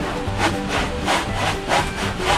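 A cheese grater rasp shaves half-set body filler over a weld on a beach buggy, giving close, rhythmic scraping strokes with about four rough back-and-forth passes, loud and steady with no talk.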